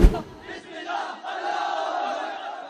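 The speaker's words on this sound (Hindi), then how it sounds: "Hundreds of students hailing from various educational institutions in Islamabad gathered at the city center on Wednesday, protesting" A crowd of student protesters in Islamabad chants and shouts together, somewhat distant, after a sharp thump at the start.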